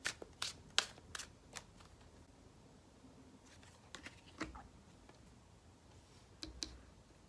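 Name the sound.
shuffling and pulling tarot cards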